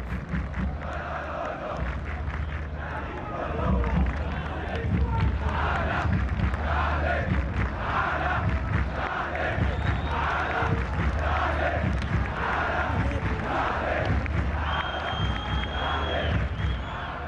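Al Ahly supporters in a football stadium chant in a rhythmic, roaring mass, the crowd's pulsing cadence repeating steadily over a continuous low rumble throughout.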